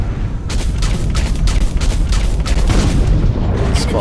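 Heavy mech weapon fire in the Hawken video game, a dense run of booming, rapid blasts layered over a constant low rumble, loud and close throughout with no pauses.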